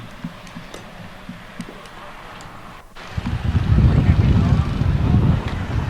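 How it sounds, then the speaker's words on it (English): Wind gusting across the microphone during an outdoor baseball game, a low rumble that swells loudly about halfway through after quieter background noise with faint ticks. "Wind is starting to really pick up."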